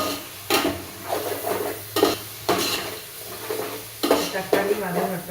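A spoon stirs tomatoes frying in a pan for a home vegetable biryani, with loud scraping strokes at regular intervals over a steady sizzle.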